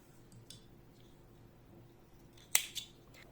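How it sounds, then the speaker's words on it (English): Scissors snip through crochet yarn once, a short sharp cut followed by a softer second click, both close, in an otherwise quiet room with no talk. "Now I am making 1 chain and cutting the yarn."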